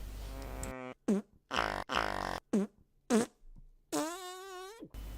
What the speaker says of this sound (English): ruin the immersion with the fart sounds it produces